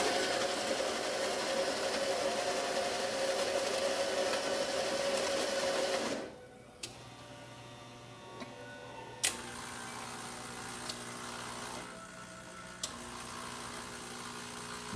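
A Monza Deluxe espresso machine brewing coffee, running with a loud steady pump drone for about six seconds, then dropping to a quieter hum with a few faint clicks and ticks, with no tray beneath, so the flow splashes.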